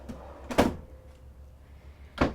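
A small drawer in the kitchen of a Newmar King Aire 4584 motorhome, opening and closing: two short, close wooden knocks about a second and a half apart, with quiet room hum between them.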